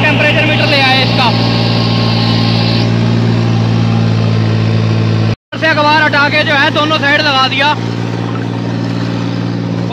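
A 3630 tractor with a rotavator runs continuously nearby, its engine a loud, even low hum, briefly interrupted once, while someone talks over it.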